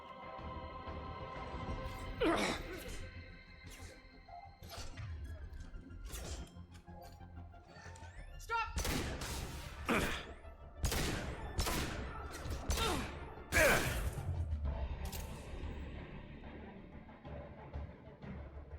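Gunfire in a Mass Effect 2 firefight, with sharp, loud bursts of shots clustered in the second half alongside impacts and crashing effects over a busy game soundscape.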